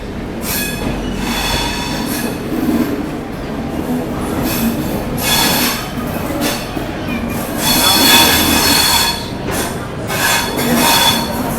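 Kacheguda superfast express 12786 rolling past at close range, a loud sustained rail roar with wheel squeal and clattering coaches that swells and eases over about twelve seconds, a voice faintly audible beneath.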